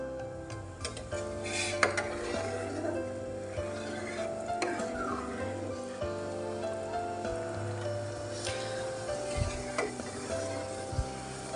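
A spoon stirs food in a cooking pot, making repeated close scrapes and light metallic clicks over a soft sizzle. The strokes are spaced irregularly, with no talking.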